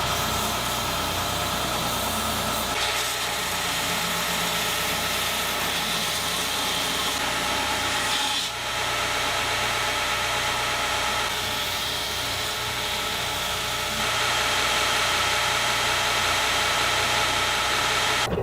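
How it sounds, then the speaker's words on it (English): A belt grinder runs steadily while shaping replacement handles on a clearance-rack machete, giving a loud, continuous whine and hiss with slight shifts in pitch as the handle is pressed against the belt, with no talking. "start shaping the handles on the belt grinder"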